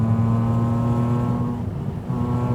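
A BMW Z4 M Coupe's naturally aspirated S54 engine hums with a steady tone under throttle, then dips and picks back up briefly, heard from the cabin without speech.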